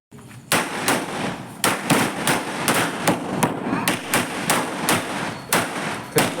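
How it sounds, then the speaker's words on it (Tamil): Festival firecrackers burst one after another in a rapid, uneven chain of sharp loud cracks, close by and continuing steadily throughout. "அடுத்த வெடி எடுத்து வெடிக்க ஆரம்பிப்போம் அப்படின்னு சொல்லி எடுத்து வெடிக்க ஆரம்பிச்சிட்டோம்"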